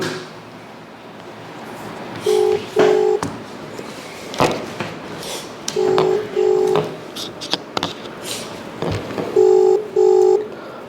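Three bursts of paired electronic dialing tones repeat at intervals over a low background hiss, with faint clicks between them; the tones sound close and clear.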